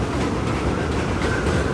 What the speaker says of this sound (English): We rode the train up to the 225th Street subway stop in Marble Hill.